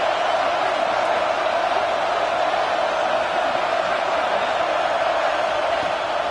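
Crowd roar in the Madden football video game, a steady, loud, continuous wash of stadium noise that holds at an even level without distinct cheers or breaks.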